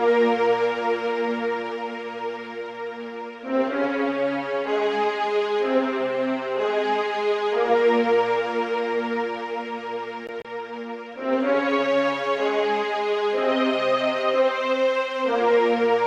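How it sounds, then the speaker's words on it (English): A film-layers string patch from a Synology library plays inside an FL Studio beat, with sustained bowed chords that shift in blocks, steady and full, alone without talk. "I'm using the film layers, and the string sounds like this."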